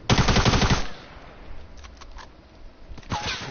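Rapid automatic gunfire from a weapon in Fortnite rattles loudly in a dense burst, followed after a pause by a few sharper isolated shots close by.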